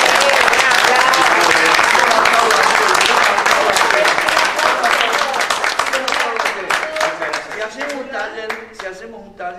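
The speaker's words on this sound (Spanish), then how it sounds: "Un aplauso." Audience applause, dense and loud at first, then thinning into scattered individual claps that fade toward the end, with some voices underneath.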